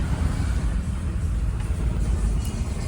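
Road traffic with cars queued in a long line on a rainy day, a low, continuous engine rumble and idling drone heard from inside the flow of vehicles, with no talking.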